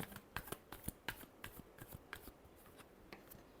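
Tarot cards being shuffled by hand, giving a quiet run of crisp, irregular riffling clicks and flicks close by, with no talk.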